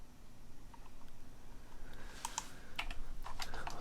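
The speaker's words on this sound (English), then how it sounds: "Get my hands ready here on the keyboard, on the hotkeys." Quick, light clicks of fingers tapping hotkeys on a computer keyboard during live aftermarket stock trading, faint at first and then bunching into a few sharper bursts of keystrokes.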